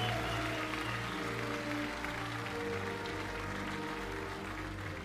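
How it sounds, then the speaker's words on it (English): Steady crowd applause fills an awards ceremony in Germany, a dense continuous clapping wash with a sustained musical bed underneath, evenly loud from start to finish with no voices breaking through. "To a round of applause here in Germany"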